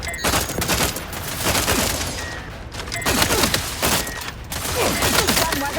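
Gunfire from The Outer Worlds 2 video game cracks out in rapid, dense volleys, loud and close, with heavy thumps and sustained bursts that barely pause across the clip.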